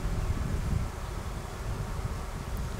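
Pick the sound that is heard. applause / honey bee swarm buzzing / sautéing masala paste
honey bee swarm buzzing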